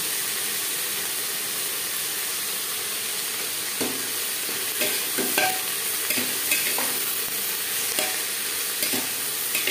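Onions fry in oil with turmeric and salt for a Bihari-style potato mutton curry, giving a steady close sizzle broken by intermittent scraping stirs, with no talking.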